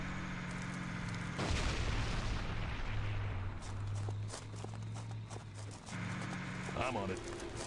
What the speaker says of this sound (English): Someone is shooting at us!